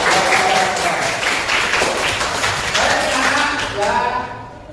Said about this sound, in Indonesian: Boleh sekali lagi tepuk tangan yang mulia ya